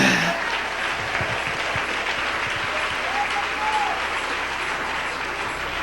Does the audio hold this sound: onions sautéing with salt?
no